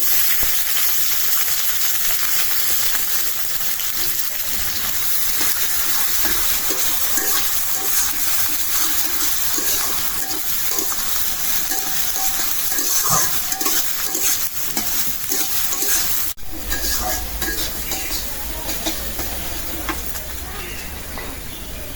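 Chopped onion sizzles in hot oil with bay leaf, dried chili and cumin, a steady, fairly loud hiss and crackle that runs throughout with a brief shift near the end.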